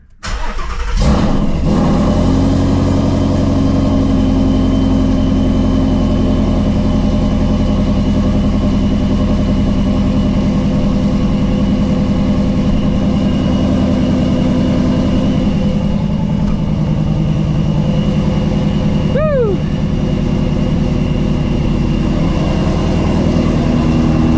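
A supercharged Shelby GT350 cold-starts with a sharp crank and catch, then settles into a loud, steady, rumbling idle that holds for about twenty seconds, with a brief chirp near the end.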